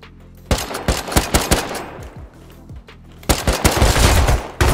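Loud, sharp bursts of rapid gunfire crack in quick succession, pausing briefly before another dense volley of shots, close, in the video game Rust.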